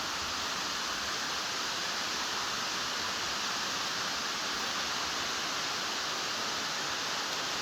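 A waterfall at Natural Falls State Park in Oklahoma rushes in a steady, even roar with no other sounds.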